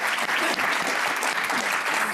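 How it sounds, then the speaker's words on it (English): An audience applauds a panel at a climate justice event, dense continuous clapping close and loud for a couple of seconds with a faint crowd murmur beneath. "A round of applause for our fabulous panel"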